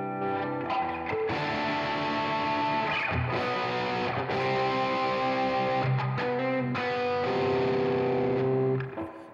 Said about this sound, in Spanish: Y ahora si pongo el booster antes de la distorsión,